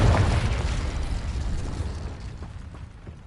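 Confringo fire spell in Hogwarts Legacy going off as a loud, broad booming blast at the start, then a rumbling decay that slowly fades over a few seconds, with faint mechanical clicks in the tail.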